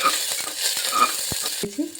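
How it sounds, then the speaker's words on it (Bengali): Chopped ginger and green chili fry with whole garam masala in a little oil, giving a steady, close sizzle with faint stirring scrapes and a brief clatter near the end. "আর দিয়ে দিচ্ছি আদা কুচনো লঙ্কাটা। এই মশলাটা ভালোভাবে একটু ভেজে নিচ্ছি।"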